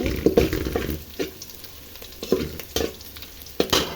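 Black cumin seeds and reddened onion frying in hot oil in a pan while vegetables are cooked, a steady sizzle broken by several sharp stirring scrapes of a spatula at close range, with no voices.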